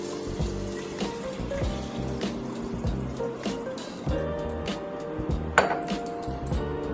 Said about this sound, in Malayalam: അത് വേകാനുള്ള വെള്ളവും കൂടി ഒഴിക്കാം.